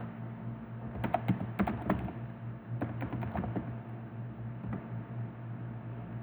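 Someone types an admin user ID and password on a computer keyboard, with short bursts of quick key clicks separated by pauses, close and fairly quiet over a faint steady hum.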